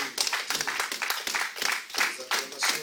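A church congregation claps and cheers together at a French-language worship service, dense overlapping hand claps with voices mixed in, steady and fairly loud throughout.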